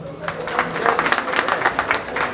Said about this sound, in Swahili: Makofi ya Ted Obiero.